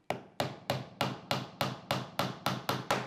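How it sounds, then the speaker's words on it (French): Nails being hammered into thin wooden laths, ten sharp evenly spaced blows at a steady pace, close and clear with nothing else heard. "Clouez."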